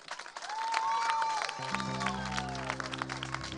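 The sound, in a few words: audience applause for beauty pageant finalist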